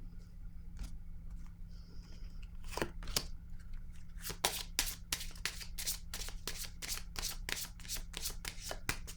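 Tarot cards are riffled and shuffled in a quick series of crisp papery flutters, close and fairly quiet, after a few isolated card taps.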